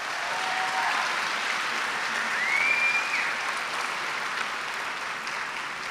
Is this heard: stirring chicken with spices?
no